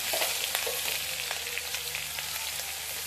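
Green chili paste sizzles in hot oil with mustard seeds and cumin, a steady close frying hiss with occasional crackles and pops and no voices.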